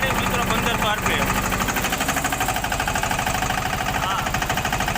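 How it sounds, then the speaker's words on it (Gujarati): Two tractors, a Massey 5118 and a Steeltrac 15 hp, run side by side in second gear at 1500 rpm, a loud, steady diesel throb with rhythmic knocking and a speaking voice over it. "બીજા ગેરમાં 1500 આરપીએમ છે બંને ટ્રેક્ટરમાં"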